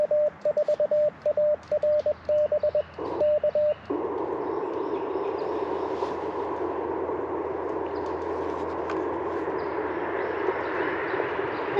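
Morse code on amateur radio beeps as short keyed tones in quick rhythmic bursts for a few seconds, then gives way to steady radio static hiss that continues to the end.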